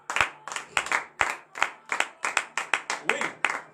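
A congregation claps at a morning prayer service, a steady close rhythm of sharp hand claps repeating about three times a second, with no talk.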